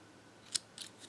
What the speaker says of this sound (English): let's cut off this blue here so it doesn't follow me